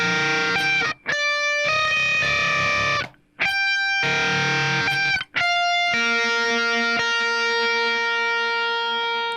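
Heavily distorted electric guitar plays a choppy riff, with sharp stops between sustained, buzzing chords before a longer ringing hold, loud and close with no talking.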